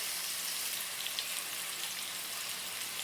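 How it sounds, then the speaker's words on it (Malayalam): Chicken pieces frying in a pan for chicken pasta, a soft, even crackling sizzle like light rain, fairly quiet and unbroken, with no voices. "ഇനി ഇത് നന്നായി ഒന്ന് ഫ്രൈ ആയി വരട്ടെ."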